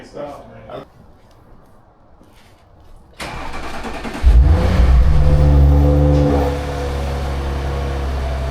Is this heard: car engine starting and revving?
yes